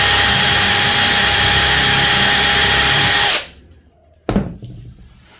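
A power drill bores a dowel hole in wood with a jig, a loud steady whine that cuts off abruptly, followed by a single sharp knock and a fading rattle.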